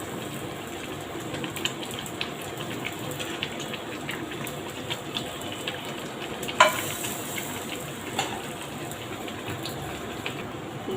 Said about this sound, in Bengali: বলক আসতেছে।